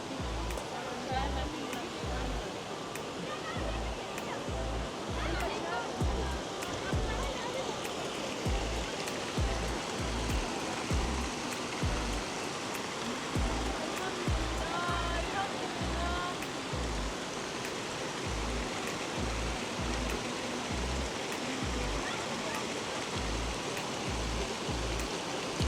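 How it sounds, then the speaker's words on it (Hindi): A waterfall pours down at a scenic viewpoint in Iran, producing a constant rushing roar of water, with a voice talking now and then over it. "वो ऊपर से आबशार बह रही"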